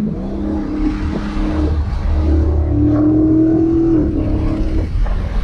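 A 2016 Dodge Charger R/T Scat Pack engine hums and rises in pitch as it pulls through a third-gear corner, a steady close drone with one clear climbing rev near the end and no talk.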